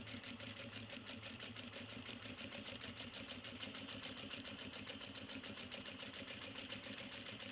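A sewing machine stitches along a line on obi fabric being prepped for upcycling into tote bags, giving a quiet, steady, fast rhythmic whirring that continues unbroken, faint and close.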